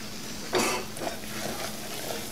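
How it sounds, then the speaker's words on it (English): Butter and flour roux cooking in a pan over medium heat, giving a steady soft sizzle with a brief stir or scrape near the start, no talking. "2 tablespoons of butter, 2 tablespoons of flour. We're gonna let that cook up until the flour taste is gone."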